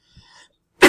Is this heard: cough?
yes